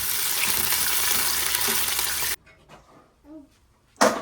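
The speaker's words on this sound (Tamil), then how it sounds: "சூப்பராக தாளித்து ஊற்றிட்டேன் மக்களே" Urad dal, cumin, curry leaves and onion are tempered in hot oil, giving a loud, dense sizzle for about two seconds that cuts off abruptly, followed by quieter stirring sounds and a brief final burst of sizzling.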